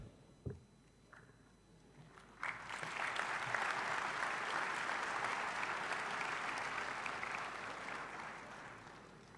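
A large audience at an opening ceremony in Kigali, Rwanda, breaks into sustained applause after a few scattered claps, the clapping building quickly and then holding steady for several seconds in a big reverberant hall.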